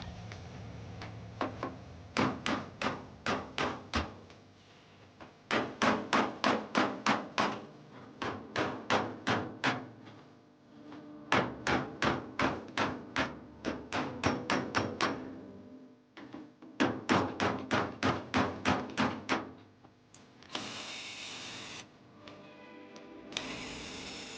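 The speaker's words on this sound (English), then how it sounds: "Just chisel it off of there." A hammer drives a chisel against a security bit bolt on a microwave, with quick metallic strikes coming in several separate bursts of about eight to ten blows each. Short pauses fall between bursts, and the blows sound close and loud.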